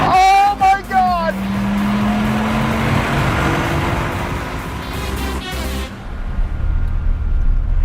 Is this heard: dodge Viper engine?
yes